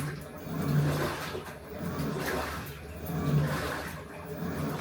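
A Panasonic 8.5 kg automatic washing machine drains its water, a rushing, gurgling outflow that swells and fades in two surges, moderately loud and close, with no talk over it.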